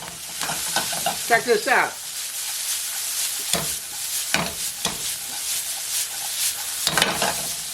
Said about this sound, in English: that's a good sound. You like to hear that sound. That means the oil's nice and hot